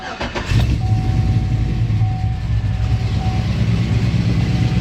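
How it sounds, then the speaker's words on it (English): A Chevrolet Silverado with a swapped 6.0L engine cranks briefly and fires up, settling into a loud, steady, rumbling idle close by with no talking. "I'm going to go ahead and hit the key and see what this thing sounds like"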